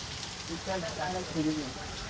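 Heavy rain pours down outside a shop, a constant hiss running underneath a man's speech.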